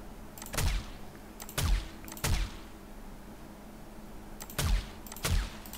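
Single gunshots in the zombie survival game 7 Days to Die, five or six sharp reports spaced irregularly over a quiet low background hum, fairly close and moderately loud.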